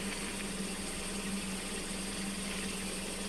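A steady, low engine idle hums continuously with a faint mechanical rattle, close by and unchanging throughout.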